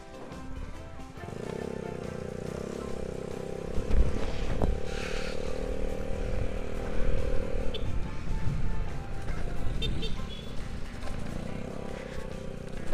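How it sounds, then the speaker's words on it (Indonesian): A Vespa Super Sprint scooter engine starts and settles into a steady, buzzing drone for several seconds, then fades into rougher, mixed background noise. "Kita nyalakan motornya."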